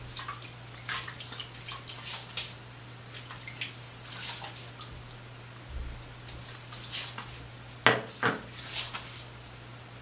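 Hot tap water is poured off a puck of Barrister and Mann shaving soap after blooming, with close, light splashes and drips over a low steady hum.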